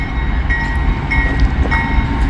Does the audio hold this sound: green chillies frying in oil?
no